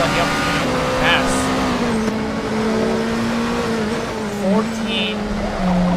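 Race cars circuit a track during a live Zako Series endurance race, engines droning and shifting pitch steadily with a car passing close, under continuous excited race commentary.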